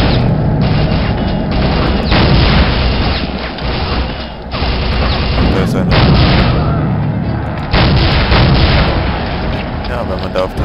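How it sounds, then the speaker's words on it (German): Gas tanks explode when shot in the video game Soldier of Fortune, giving loud repeated booms and crashing blasts amid gunfire that fill the clip with dense, heavy bursts and brief lulls between them. "wenn man da auf die Tanks schießt, dann explodieren sie"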